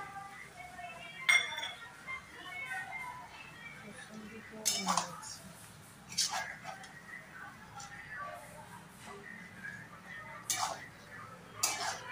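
Tomato pieces going into a pot of Chettinad-style South Indian chicken curry, with several clinks and scrapes of metal utensils and cookware at irregular intervals under a quiet room background.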